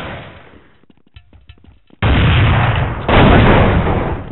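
Gunfire in the Counter-Strike video game comes as a few faint clicks and then a loud, sustained roar of shots that swells halfway through and fills the rest of the moment.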